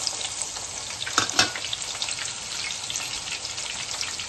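Chopped onion sizzles steadily in a hot pan for Telangana-style fish curry, with a couple of louder scraping stirs partway through and a continuous crackling hiss.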